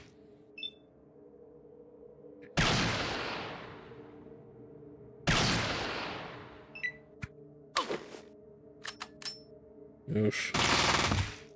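Rifle fire in Fallout: Sonora, with several loud sharp shots ringing out with long decaying tails amid beeping interface tones, and a brief spoken word between them.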